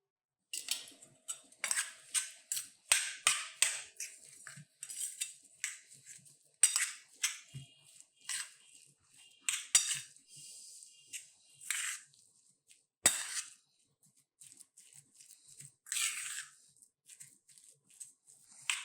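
Cutlery clinking and scraping against a bowl while a vinegar-dressed potato filling for sandwiches is stirred, in irregular bursts of close, light metallic taps with short pauses, no talking.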